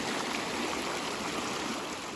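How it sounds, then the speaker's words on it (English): A trout creek near a lake runs in a steady, even hiss of flowing water, close and unbroken throughout, with no talking over it. "You look down there, you can see the creek."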